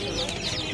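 A caged pair of budgerigars at the Bottola haat market chatter in bright, high chirps, steady through the short stretch, with market voices talking over them.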